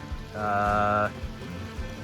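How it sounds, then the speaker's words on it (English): Rain falls at a campsite as a soft, steady patter, while a brief tonal hum rises and stops partway through. "Rain started to pick up a little bit"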